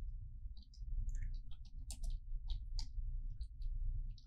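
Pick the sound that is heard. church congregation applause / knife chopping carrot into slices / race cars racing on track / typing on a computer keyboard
typing on a computer keyboard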